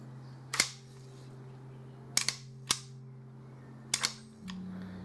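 Desert Eagle pistol shots on a range, six sharp cracks arriving singly and in close pairs over a steady low hum, each followed by a brief decay.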